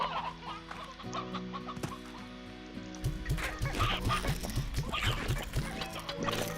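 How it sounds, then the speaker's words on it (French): Chickens clucking in the video game Slime Rancher, a steady run of short clucks and rhythmic fowl calls under a faint game music drone, fairly close and without talk. "Là, des poules."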